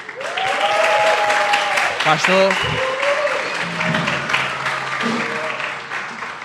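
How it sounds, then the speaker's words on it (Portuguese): Audience applause for Pastor Jairo Ayrton Teixeira after an interview, a steady wash of clapping under a voice speaking over it throughout. "eu gostaria de uma salva de palmas"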